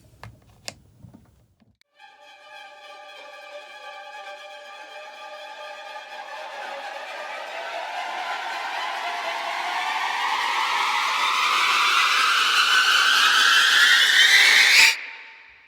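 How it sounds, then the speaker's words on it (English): Bowed strings play short, detached notes in overlapping uneven rhythms, swelling louder and brighter over about thirteen seconds before cutting off abruptly. "as the players are also playing staccato ad libitum, so different rhythms"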